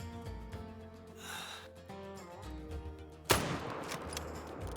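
A single sharp rifle shot fired at a tahr while hunting in the game Call of the Wild, cracking out loud and abrupt after a stretch of quiet ambient sound, with a noisy tail trailing off afterward.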